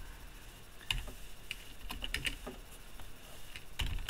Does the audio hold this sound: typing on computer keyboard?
yes